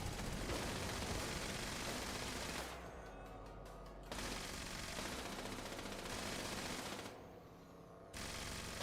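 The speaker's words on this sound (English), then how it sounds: "Is it still shooting at me?" Gunfire in the video game Fallout 76 rattles almost continuously at the player, loud and dense bursts broken by two short lulls.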